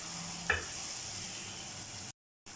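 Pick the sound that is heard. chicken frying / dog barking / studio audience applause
chicken frying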